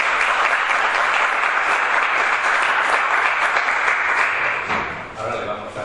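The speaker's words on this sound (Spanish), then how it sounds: "le damos un aplauso" Loud, dense applause from an auditorium audience after a lecture, sustained and close, tapering off over the final second.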